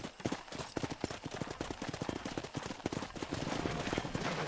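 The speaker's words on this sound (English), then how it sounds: "Control that horse, will ya?" Horse hooves clip-clopping at a gallop in the Red Dead Redemption 2 video game, a fast steady rhythm of thudding beats over outdoor ambience, with faint gunfire in the background.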